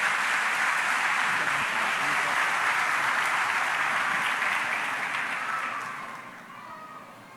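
A church congregation applauds steadily for a few seconds at an evening celebration service, a dense wash of clapping that fades out near the end.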